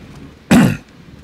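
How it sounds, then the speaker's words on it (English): One close, loud burst of throat clearing, a short rough cough about half a second long, set against quiet background. "my throat is still hurting, so don't mind me coughing and all that."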